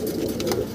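A Golla pigeon gives a brief, soft, low coo, close by and alone.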